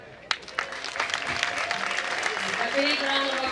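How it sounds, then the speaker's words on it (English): Audience at a graduation ceremony breaking into applause, a few scattered claps that quickly swell into sustained, roomy clapping, with a voice heard at the start. "A big round of applause to the Uzima Entertainment Group"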